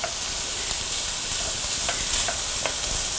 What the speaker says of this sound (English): So that's sizzling away.